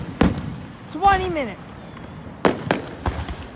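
Fourth of July fireworks bursting outdoors, sharp cracks and pops spread across a few seconds with a rising whistle in between, while people talk nearby.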